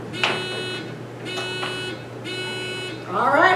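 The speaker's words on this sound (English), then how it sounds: "you're going to use a buzzer system to answer a question" A quiz bowl buzzer sounds three times in sustained electronic blasts, each about a second long, followed by a brief burst of voices.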